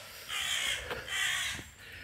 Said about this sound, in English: Noisy crow chasing the magpies off.